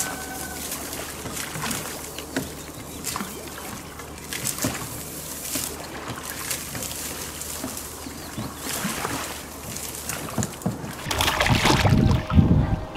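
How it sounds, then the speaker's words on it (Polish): A small boat is rowed on a pond: soft oar strokes and water sloshing repeat irregularly, with faint birds and some wind. Louder knocking and splashing near the end. "Najlepiej by było, jakbym usiadł i wiosłował normalnie."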